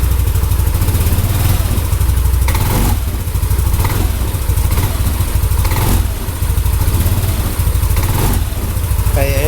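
A motorcycle engine idles with a new iridium spark plug fitted, a loud, close, steady chugging rumble with a few brief blips and some clatter, while a person talks over it.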